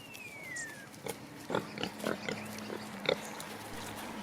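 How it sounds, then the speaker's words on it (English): Pigs released into the New Forest to eat acorns, grunting in a series of short, soft snorts scattered over outdoor ambience, fairly near but low in level. "about 600 pigs are usually let out onto the forest for about 2 months to eat the acorns"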